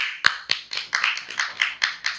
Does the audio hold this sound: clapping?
yes